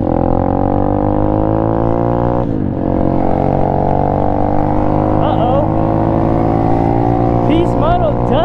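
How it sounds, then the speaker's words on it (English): An Apollo RFZ Chinese dirt pit bike engine runs loud and close, a steady buzzing drone with a brief dip midway, then rising and falling revs as the throttle is blipped. "the bike is really, really loud if you guys can hear it"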